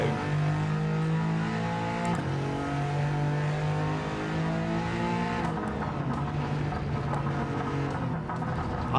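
A Peugeot 2008 three-cylinder engine in Gran Turismo 7 revs and climbs through gears, its buzzing note rising and dropping at shifts, with anti-lag bubbling and brief tire noise, loud and close.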